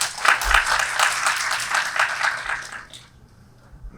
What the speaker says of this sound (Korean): 그럼 카롤리나 선생님을 큰 박수로 모시도록 하겠습니다